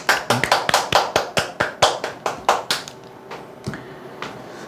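Claps ring out in a fast, even rhythm, about a dozen sharp hand claps close by, then thinning out to a few scattered claps before fading.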